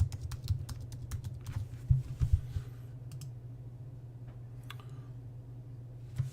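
Fingers type a username and password on a computer keyboard, with quick clusters of crisp key clicks close by, then sparser single taps as the entry finishes over a low steady hum.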